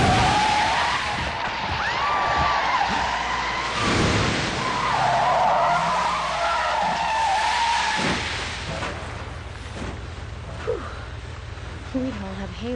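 In the video game Deadly Premonition, a car engine drones while tires squeal and skid in long wavering screeches, loud and continuous, with someone talking over the driving sounds.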